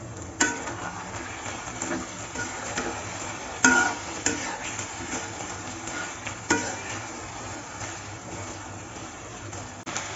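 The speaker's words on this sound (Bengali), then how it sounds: "এখন একটু নেড়ে চেড়ে নামিয়ে নিব।" Taki fish curry with coriander leaves is stirred in a pan, with soft scraping and occasional metallic clinks over a low, continuous sizzle, close and steady.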